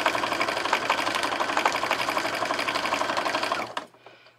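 A Brother Project Runway PC 420 sewing machine runs at a steady, fast, rattling stitch rhythm up close, then stops abruptly near the end, leaving near silence.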